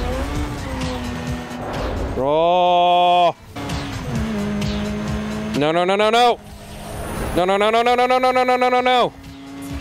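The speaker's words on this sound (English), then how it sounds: "Why does your GTO sound like a Subaru?" Pontiac GTO engine in the Need for Speed Underground 2 racing game, revving in bursts of rising whine and tire squeal, loud and close, with people shouting over it.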